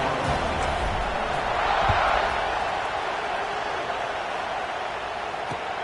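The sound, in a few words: football stadium crowd buzzing after a score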